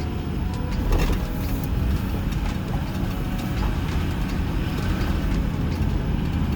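A 2009 6.4-liter diesel pickup pulls away, its engine a steady, loud low rumble near the cab, with a continuous broadband drone and no talking.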